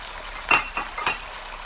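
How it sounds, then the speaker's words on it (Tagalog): Thin-sliced beef and vegetables stir-fried in a pan, heard as a few soft scraping strokes of a spatula over a low, steady sizzle, close and brief with no voices. "Haluin lang po natin. Mix lang po natin together ang ating pong beef at ang ating pong mga vegetables."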